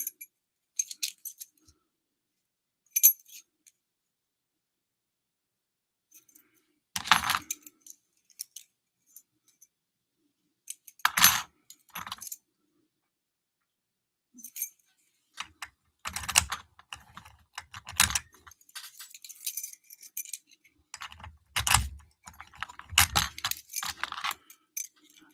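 A loose pile of metal keys jangles and clicks in short bursts as they are handled and tried one after another, close and sparse with quiet gaps between.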